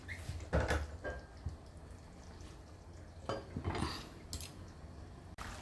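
A lid goes onto a pot of dhaba-style chicken curry with sour yogurt, giving a few quiet metal clanks and knocks spaced apart against a calm kitchen background.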